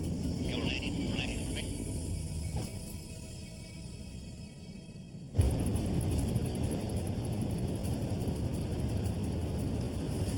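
A small plane comes in to land in rural Alaska: a steady engine and wind roar that drops a little, then jumps abruptly louder and rougher around touchdown and holds a loud, continuous rumble to the end.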